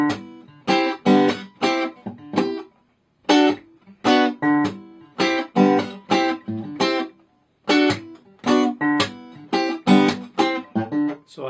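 Guitar picking the opening measure of a song, a live version, played slowly and looped, with short plucked chord and note groups in a steady halting rhythm, clear and close, no talking.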